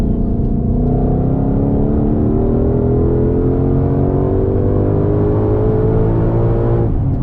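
A Ford Shelby GT500 accelerates hard, heard from inside the cabin as a loud, droning engine roar that climbs steadily in pitch for about seven seconds before abruptly easing off.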